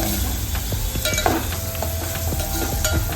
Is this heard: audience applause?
no